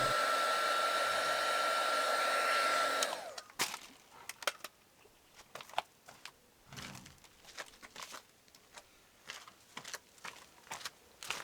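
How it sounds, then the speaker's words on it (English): A heat gun warms tint film wrapped over an indicator on a Mercedes C220 CDI W204, a loud steady blowing roar for about three seconds that cuts off, leaving scattered light taps and handling noises. "we're going to get the heat gun and just gently heat the area which we've wrapped"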